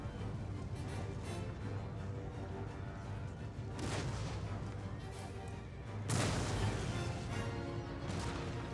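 Cannon fire in the strategy game Empire: Total War, heavy booming blasts over a dense battlefield din, with a louder crashing volley near the end.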